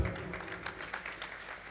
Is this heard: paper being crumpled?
no